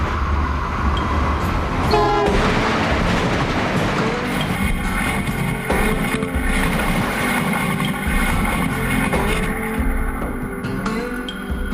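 A train roars through a station where no trains stop, close by, loud rumbling and rattling wheels with sustained horn tones ringing out over the noise.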